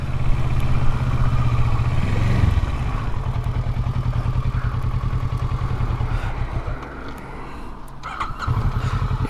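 A motorcycle engine drones steadily at cruising speed while riding through the Vintage Oaks community in New Braunfels, Texas. The rumble stays close and continuous, with a brief swell in revs partway through.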